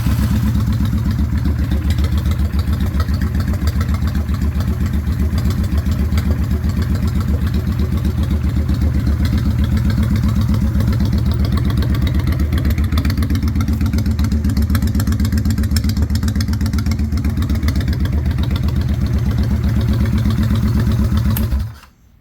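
A 2003 Honda Shadow VT750 Spirit motorcycle engine starts and settles into a steady, loud, close-up idle with a lumpy rhythmic chug that runs unbroken for about twenty seconds before cutting off.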